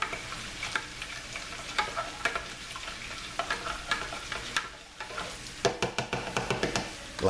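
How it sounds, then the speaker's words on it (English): Cornstarch-thickened broth is stirred into a pan of pork chops, with a continuous bubbling sizzle and a run of quick scraping, tapping strokes from the spoon that grow more frequent toward the end. "So we're gonna stir this in."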